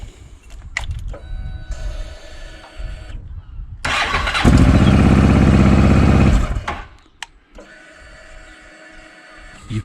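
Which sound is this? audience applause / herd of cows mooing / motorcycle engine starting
motorcycle engine starting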